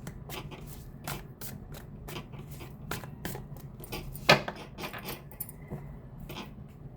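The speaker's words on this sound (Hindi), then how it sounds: "एक और कार्ड निकालते हैं।" Tarot cards are shuffled and drawn in a quiet room, with a run of crisp, close riffling snaps and flicks, one sharper slap standing out among them, then softer card sounds tapering off.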